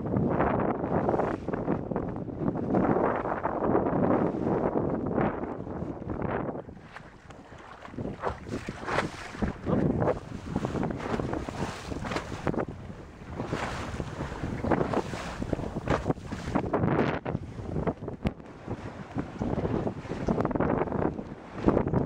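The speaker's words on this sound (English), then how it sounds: "So here we are, out on the Baltic." Sailboat out on the Baltic Sea, with steady loud wind roar buffeting the microphone and the wash of water and waves against the hull, continuous and close.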